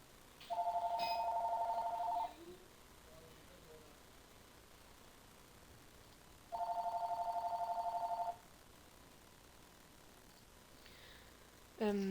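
A telephone rings in two bursts of a bright electronic warble, each lasting under two seconds and separated by a pause, with a third ring beginning at the end over quiet background noise.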